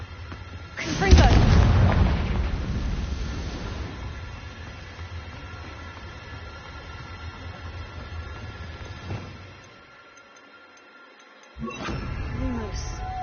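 A Confringo blasting spell in a video game erupts in one heavy, close boom that rumbles and fades over a few seconds. A quieter stretch and near-silence follow, then another burst near the end.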